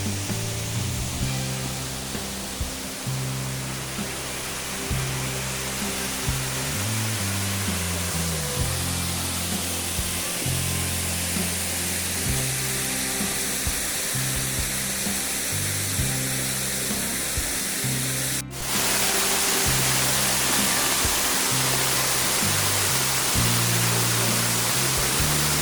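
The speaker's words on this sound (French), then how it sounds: "On aperçoit rapidement cette cascade qui se déverse dans un cirque magnifique" The Saut de la Truite waterfall in the Cantal mountains of Auvergne, where a stream drops 30 metres into a rocky cirque, roars as a loud, steady broadband rush with no voices.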